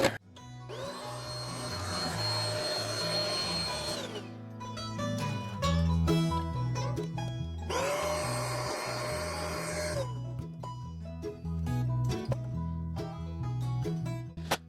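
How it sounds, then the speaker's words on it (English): A vacuum cleaner roars in two sustained bursts with a steady high whine while cleaning out a wood pellet stove, separated by clattering and scraping of tools against a surface. "you should be able to vacuum most of that out of there"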